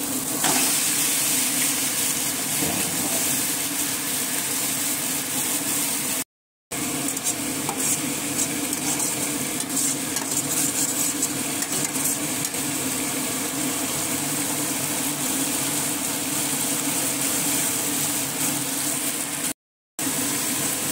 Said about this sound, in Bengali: মশলাটা খানিকক্ষণ কষিয়ে নেব